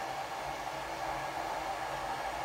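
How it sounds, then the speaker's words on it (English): A hair dryer blows with a steady, even rushing hiss throughout, drying a Havanese dog after a bath, close and constant with no talking. "hairdryer is gently blowing his"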